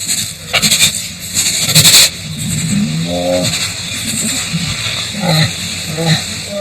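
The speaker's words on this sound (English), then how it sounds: "Tigers communicate using a range of vocalizations, and the most common non-threatening sound they make is called a chuff." Tigers chuff at each other and at a person in a friendly greeting, giving short breathy snorting puffs and low rumbling pulses, close and fairly loud over a noisy background.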